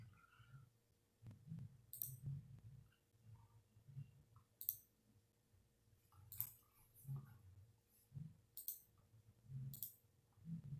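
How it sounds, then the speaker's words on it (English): A computer mouse clicks through browser tabs, with sharp, faint clicks arriving every second or two against a quiet, low room hum. "By social media marketing, I mean clicking through the tabs on a computer."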